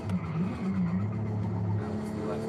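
A low-horsepower Nissan in Forza Horizon 5 revs steadily, its engine note rising and falling in a continuous, up-close drone with no talking.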